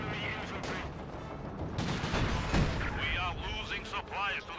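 Battlefield gunfire in Company of Heroes 2 rattles and booms in the background while a commentator talks over it throughout.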